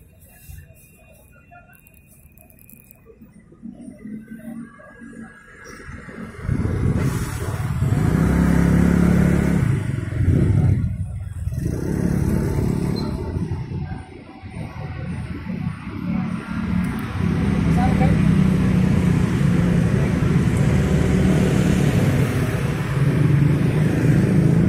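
Busy street traffic outside a market in Kebayoran Lama, South Jakarta: a steady roar of cars and motorcycles with engines revving and passing close, building from a quieter start to a dense continuous rumble, with faint birds and chickens in the background.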